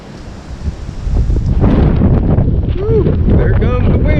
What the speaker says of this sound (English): there comes the wind again, Magoo.